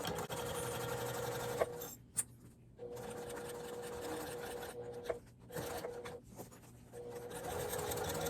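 A sewing machine runs steadily while stitching the lining of a zippered makeup bag, a continuous close mechanical whir broken by a few brief stops and restarts, fairly quiet overall.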